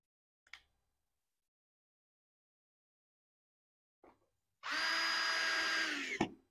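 A power driver runs a screw into a kids' 12V battery-operated ride-on BMW S 1000 RR bike during assembly, a steady whirring buzz of about a second and a half after two faint clicks, ending in a sharp knock.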